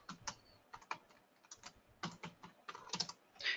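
Keys clack on a computer keyboard in irregular bursts of quick taps with short pauses between, close and fairly quiet.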